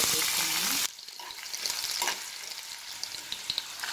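Chopped ginger pieces drop into two tablespoons of hot oil in a pan, giving a sudden burst of steady loud sizzling and crackling that continues close up, with occasional stirring.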